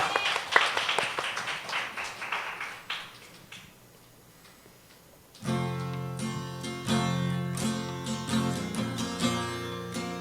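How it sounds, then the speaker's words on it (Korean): A church congregation claps in praise, a burst of many hands that fades out after about four seconds, then organ or keyboard worship music enters loudly and carries on alone. "우리 하나님 앞에 영광의 박수하도록 하겠습니다"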